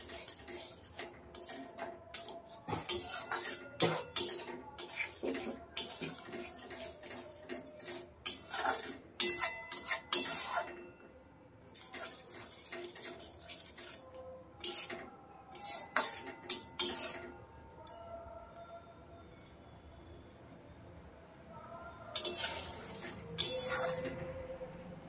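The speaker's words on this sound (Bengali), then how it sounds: "টক দইয়ের সঙ্গে কষিয়ে নেব।" Spice paste cooked with sour yogurt for a Bengali fish curry is stirred in a pan over low heat, with scattered scraping and clinking of a spoon against metal in irregular bursts and quiet pauses between.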